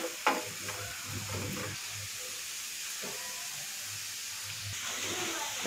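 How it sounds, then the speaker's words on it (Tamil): Onions and curry leaves fry in a pan for a village-style prawn fry, giving a steady sizzle and hiss with occasional stirring scrapes and a low hum beneath, moderately close and without talk. "வெங்காயம் வணங்கிட்டு இருக்கும்போது கருவேப்பிலையும் சேர்த்துக்கலாம்."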